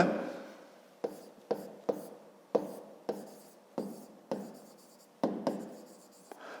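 Pen on paper drawing geometry rays for a fifth-grade maths exercise: a series of short scratchy strokes, each starting sharply and fading, about a dozen in irregular rhythm, close and quiet.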